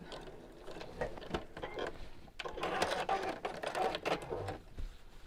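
A sewing machine stitches a straight seam across lining fabric in a home sewing session. The quiet, close mechanical whirring comes in short intermittent runs with brief pauses between them.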